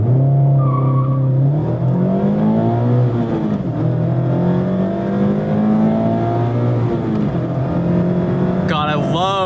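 A 2024 Mazda MX-5 Miata Club ND3 with a manual gearbox is driven hard on a track. The engine note rises and falls through repeated revs and shifts, loud and close from inside, with a sharp burst of tire squeal near the end.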